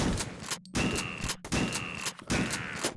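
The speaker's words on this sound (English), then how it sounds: "Soviet shotgun, which sounds like someone gently slamming a car door shut." Soviet shotgun blasts in the video game HROT, three heavy booming shots with a dull thudding character, spaced roughly evenly apart, loud and close with no talking.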